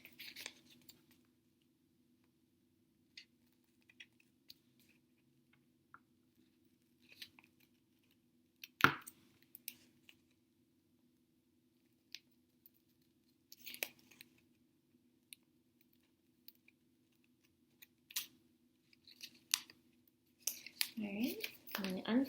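Scissors snip through folded paper for a papel picado craft in sparse, faint cuts scattered among quiet pauses, with a few closer, sharper snips and a denser run of cutting at the end.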